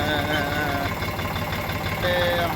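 A tractor engine idles in a steady, low, throbbing rumble on a farm, close by and continuous, with voices audible over it.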